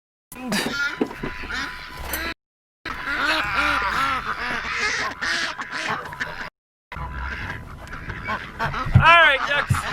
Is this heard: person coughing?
no